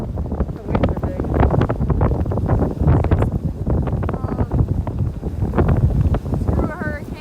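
Gusting wind with big waves at sea during Hurricane Michael, a loud buffeting rush that pounds the microphone throughout, with people talking beneath it.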